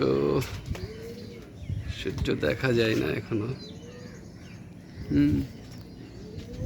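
Pigeons, including young birds, coo in soft repeated low calls at a loft before sunrise. Someone talks over and between the calls.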